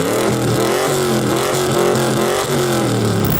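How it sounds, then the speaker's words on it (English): A 2010 C6 Corvette with an LS3 pushrod V8 revs through its exhaust, a loud, throaty, continuous engine note rising and falling in pitch up close with no talking. "You've got your traditional American pushrod, throaty V8 sound."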